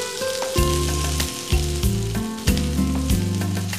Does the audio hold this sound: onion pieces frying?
yes